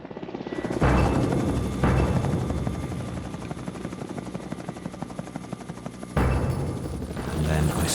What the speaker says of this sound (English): tiny dot of a helicopter